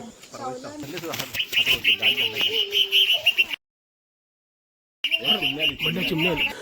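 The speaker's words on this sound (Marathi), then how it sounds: "बुलबुल पक्षीला तिथे चाहूल लागली की कोणतं आलेलं आहे आणि अचानक ते ओरडत तिथं आले" Bulbul calling agitatedly near its nest holding three eggs, a steady run of sharp, high chattering calls close to the microphone, broken by a short silent gap, with a voice talking over much of it.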